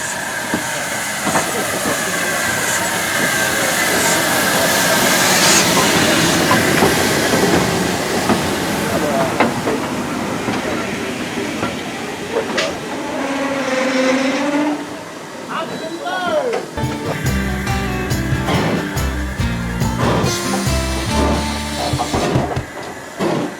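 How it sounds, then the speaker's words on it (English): Steam locomotive LMS Ivatt 2MT 41312 on the Severn Valley Railway at an autumn steam gala, loud and close, with continuous steam hiss giving way to rhythmic rail clatter as it gets under way. "this locomotive is LMS Ivatt 2MT 41312, and this will take us to Eardington"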